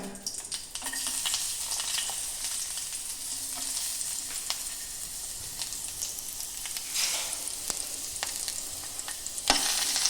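Mustard seeds, neem leaves and Kumta chillies crackle and sizzle in hot oil for a tempering with turmeric, a steady close frying hiss with scattered pops and stirring clicks throughout, no voices.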